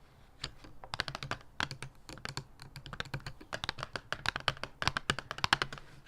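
Fingertips tap quickly and lightly on colored pencils in quiet, close ASMR-style sound, irregular bursts of crisp clicks like typing, with no voice.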